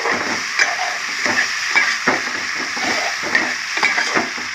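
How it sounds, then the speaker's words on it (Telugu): Mutton and chana dal curry fries and sizzles in a pan, with a steady close hiss and crackle broken by regular scraping stirs of a spoon, no talking. "ఇదంతా ఫ్రై చేసేస్తున్నాం అంతలో ఇదంతా ఫ్రై అవుతుంది"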